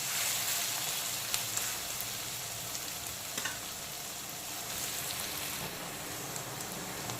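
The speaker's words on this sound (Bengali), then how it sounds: "থেতো করা রসুনটা দেওয়ার পরে আবারও 2-3 মিনিট সময় নিয়ে রসুন কুচিটাকে ভেজে নিলাম।" Crushed and chopped garlic frying in a pan for village-style country chicken curry, a steady, dense sizzle and crackle that carries on evenly throughout, close and moderately loud with no talking.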